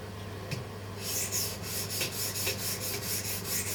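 A steel chisel with badly chipped edges is rubbed back and forth on diamond sharpening stones, producing a rhythmic series of soft rasping strokes that comes up after a brief quiet start.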